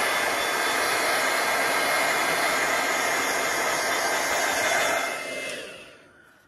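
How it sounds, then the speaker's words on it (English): A heat gun blows a loud, steady rushing hiss onto craft glue for about five seconds, then winds down and fades away. "the heat gun on it."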